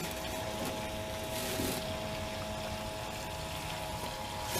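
A Harbor Freight transfer pump runs with a steady, moderately loud whir and a faint liquid wash, holding an even level with no talk over it.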